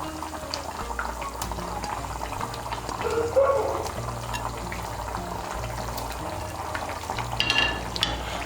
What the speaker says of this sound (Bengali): ধোকাগুলোকে মিশিয়ে নেব।